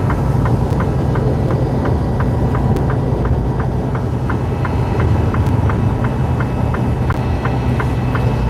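Truck engine while driving on a road trip from Aurora, Colorado toward Moab, Utah: a constant, even drone with a regular light ticking repeating throughout, with no talking.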